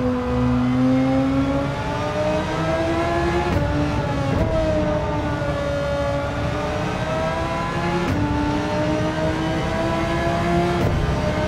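A race car engine in the video game Gran Turismo 7 drones steadily throughout, pitch rising and dipping as it revs and shifts, loud and continuous with no other sounds.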